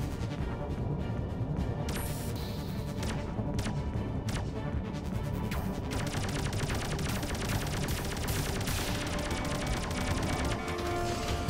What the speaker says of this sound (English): He's firing circles at me.